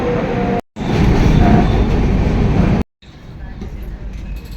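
An Intercity Express train from Guntur to Secunderabad rumbles along with a steady low roar and faint rattling, broken by a couple of abrupt cuts.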